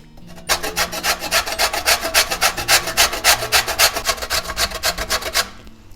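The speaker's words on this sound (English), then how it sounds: "So I'm going to grate it using my grater and get fine powdery kind of this jaggery" A ball of palm sugar jaggery being grated on a hand grater gives a loud, steady run of quick rasping strokes close up, about six seconds of rhythmic scraping with no voices.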